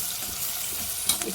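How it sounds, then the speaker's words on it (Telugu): Mixed vegetables frying in a pan for a curry, a steady close sizzle with a few light stirring clicks near the end. "ఇప్పుడు అవన్నీ కూరగాయలు మంచిగా వేగినాయి."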